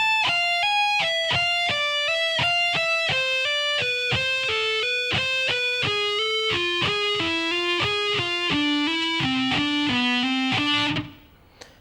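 Electric guitar slowly playing a solo lick, a long run of evenly spaced picked notes stepping gradually downward in pitch, clear and sustained, alone without talk before a sudden stop.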